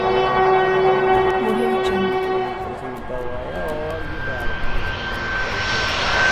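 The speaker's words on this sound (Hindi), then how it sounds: "हेलीकॉप्टर है।" A helicopter seen in a toy-vehicle cartoon, a steady droning engine with a sustained whine and rising tones, continuous and fairly loud throughout, with a voice speaking over it.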